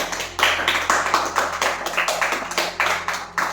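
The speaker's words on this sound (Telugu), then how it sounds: "చప్పట్లు కొట్టు." A church congregation clapping hands during a worship service, steady rhythmic claps from a crowd repeating at a brisk even pace, moderately loud and fairly close.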